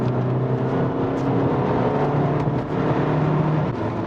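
A VW Scirocco 2.0 TDI coupe's diesel engine revs steadily as it accelerates, a continuous in-cabin drone rising through the gears for a few seconds with no voices.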